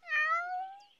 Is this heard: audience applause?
no